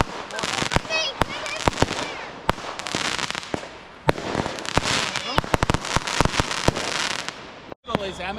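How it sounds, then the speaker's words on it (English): Rapid pops and cracks of amateur fireworks on Territory Day burst in dense, irregular volleys for several seconds, sharp and fairly close, with a brief lull near the end. "All these amateur fireworks."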